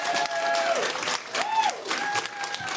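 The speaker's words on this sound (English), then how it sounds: "Are they like actually clapping for that?" Audience clapping and cheering at a political speech, a continuous wash of applause with crowd noise, partly under a voice talking over it.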